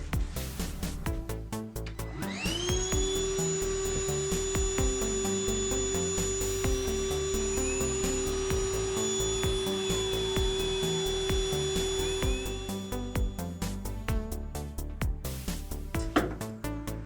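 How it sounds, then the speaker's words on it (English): A power drill bores holes in a boat for a diesel heater install: the motor spins up into a sustained high whine for about ten seconds, then winds down, loud and close, followed by clattering handling noises. "let's start drilling"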